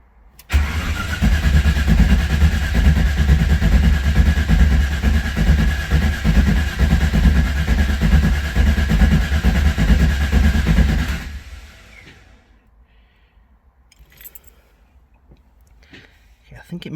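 A Ford Capri V8 on a dyno cranks and catches, then runs loud and steady for about ten seconds before cutting off abruptly into near silence.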